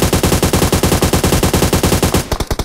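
Rapid automatic gunfire in the mobile battle royale game PUBG Mobile, a loud, evenly spaced burst of shots firing continuously for about two seconds before breaking into a few scattered final rounds.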